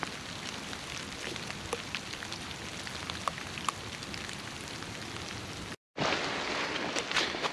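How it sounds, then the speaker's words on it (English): Steady rain falls outdoors on public land in Ontario, a constant soft hiss with scattered drops, briefly cut out before resuming slightly louder. "the rain is still continuing, and it starts to pick up every once in a while"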